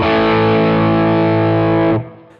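Electric guitar with heavy distortion, budget versus expensive model: one thick, sustained distorted chord ringing loudly for about two seconds, then cut off abruptly to a faint decay.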